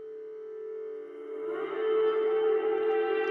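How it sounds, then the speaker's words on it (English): Electric guitar effect drenched in heavy reverb, a sustained tonal drone that swells louder after about a second and a half, sounding distant and washed out within a music track. "that sounds like a guitar effect with like a lot of reverb"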